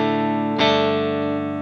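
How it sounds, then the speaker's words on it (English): Clean electric guitar played through a Tone X capture of a Vox AC30 amp, a sustained chord ringing and then freshly strummed, full and bright with a little sparkle, close and alone. "Nice, big and beefy AC30 sound with a bit of sparkle to it."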